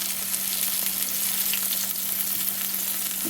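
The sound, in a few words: pork chops browning in a frying pan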